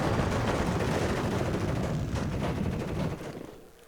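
A napalm bomb goes off in the real-time strategy game Warno: a dense, sustained roar of rumbling blasts and crackling fire, loud and steady for several seconds before tailing off, with no talk.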